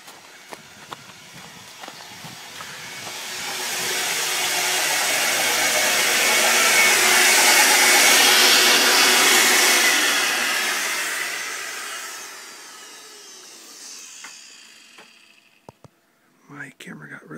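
A household vacuum cleaner in a garage runs up to a loud, steady roar of suction as it sucks up a glove, then winds down and stops, with scattered handling clatter before and after.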